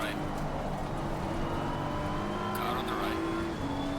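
Ferrari race car engine in Assetto Corsa Competizione at Barcelona, droning steadily at high revs with a brief rising sweep and a gear shift near the end, heard under talk.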